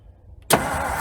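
The engine of a 1956 Ford Customline fitted with a Thunderbird engine, off the road for decades, bursts into life after a quiet moment, a sudden loud roar that settles into a rough, steady running note.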